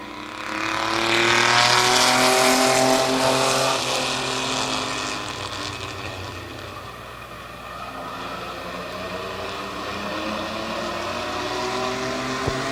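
Race trucks at Midvale Speedway roar into a corner, with loud, layered engine drones that swell and fade as the pack passes.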